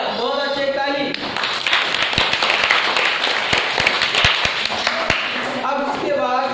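Schoolchildren in a classroom clap together in a burst of applause lasting several seconds, with a teacher's voice heard before and after.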